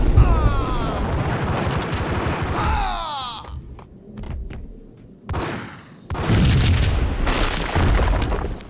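Explosion in the Max Payne video game, a heavy booming blast and roaring rumble followed by a quieter gap with scattered clicks, then another loud surge of rumbling noise and debris.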